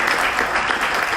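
A Rotary meeting audience delivers a brief, loud burst of thick, continuous applause filling the room.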